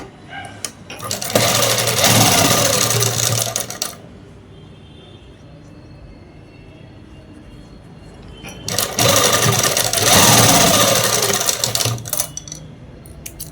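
A sewing machine stitches cloth for a dress in two loud, close bursts of fast whirring and rattling, separated by a few seconds of quiet.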